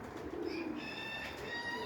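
Pigeons coo softly in hot 40-degree weather, a faint low murmur with thin background chirps, no voices over it.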